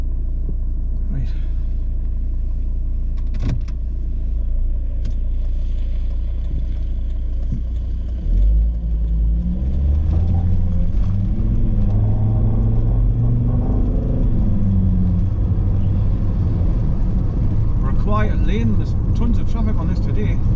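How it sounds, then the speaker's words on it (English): Cars pass along the A696 road near Sweethope Lough, a low steady rumble with a rising engine sweep as a vehicle goes by midway, heard from inside a moving car while a person talks. "Tons of traffic on this today."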